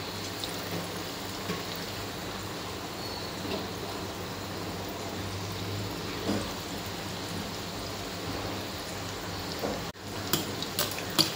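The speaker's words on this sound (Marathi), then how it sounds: "आपण आता तळायला घेऊया।" Paneer pakoras deep fry in hot oil, giving a steady close sizzle and crackle throughout, with a few louder pops and clinks toward the end.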